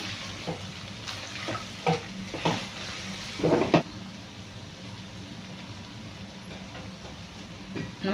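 Chicken fry sizzles softly in a pan as masala is stirred in. A few close, scraping stirs come in the first seconds, then a quieter steady crackle.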